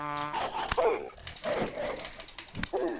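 Wolves attack in the survival video game Vintage Story, giving sharp, close barks and yips with brief whimpering cries between them, loud and irregular against a low game background.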